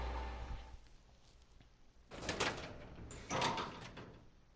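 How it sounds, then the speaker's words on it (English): A door is unlocked and opened in Resident Evil Zero, two quiet bursts of scraping and sliding, each lasting about a second, over a hushed, low ambient background. "So we'll go through here, we'll unlock the door."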